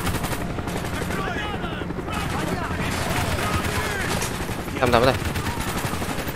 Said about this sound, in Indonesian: gua kenain tembak teman gua sendiri